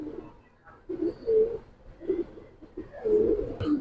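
Pigeons in a loft of Giribaz and coloured breeds coo in a few low, throaty phrases with short pauses between them, close and clear with no talk.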